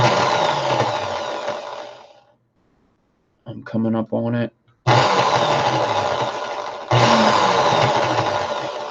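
A drill whirs loudly at high speed in long bursts, stopping briefly while someone speaks, then running again.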